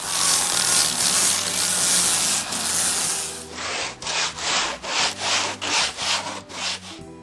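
Steady abrasive sanding on a carved wooden duck decoy, continuous at first, then breaking into regular back-and-forth strokes, close and fairly loud.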